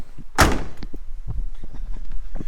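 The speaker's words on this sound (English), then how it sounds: "You gotta grab this handle in here to lift the door and slam it." A car door is lifted by its handle and slammed shut with one sharp, close slam, followed by faint knocks and rattles.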